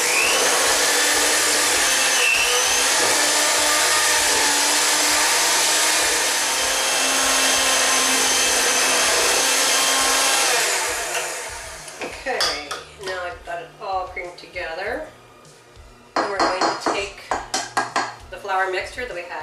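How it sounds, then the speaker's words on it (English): A hand mixer whirs steadily in a bowl of oatmeal cookie dough for about ten seconds, then stops and gives way to clinks and scrapes of utensils against the bowl, while a person talks briefly. "we're gonna take the hand mixer because the other one's just way too big for this bowl"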